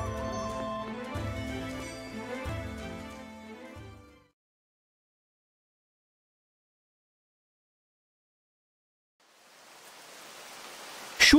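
Rain falls in the video game Monochrome Mobius: Right and Wrong Forgotten, arriving as a steady, fairly loud hiss for the last couple of seconds, after a stretch of music and then silence.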